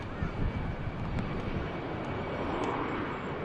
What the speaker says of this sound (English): Now finally about to rotate from 23 left